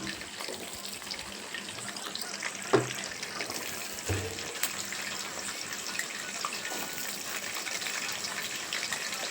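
Vegetables are washed under a running kitchen tap, giving a steady gush of water with a few sharp knocks and splashes as they are handled. The sound is close and continuous, and no one speaks.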